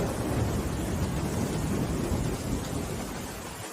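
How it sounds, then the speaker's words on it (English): Rain falls steadily in a forest with a deep rumble of thunder underneath. The dense roar of the downpour stays even and fairly loud throughout and fades slightly toward the end. "Are you sure that's just rain you're hearing?"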